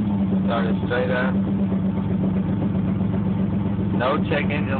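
A 1996 Chevrolet Camaro SS V8 with an MSD ignition system, which has had a misfire, starts up and runs at a steady, loud idle. Its rumble fills the clip, and voices talk over it at times.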